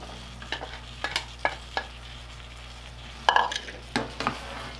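Chopped strawberries and blueberries being stirred with sugar in a pan for a filling: a spoon scrapes and knocks against the pan in scattered, irregular strokes over a soft steady background hum.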